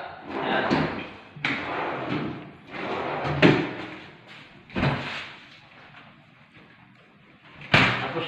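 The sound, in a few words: drawer of a cabinet opening and closing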